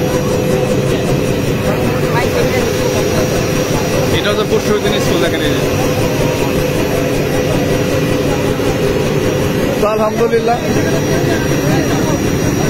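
A helicopter near a school in Singair, Bangladesh, gives a loud, steady engine and rotor drone throughout, heard under someone talking close by with a crowd murmuring around him.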